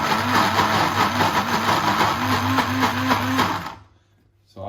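An electric mixer churns protein pancake batter made with egg white and milk, giving a steady, close whirring buzz for nearly four seconds before it cuts off abruptly.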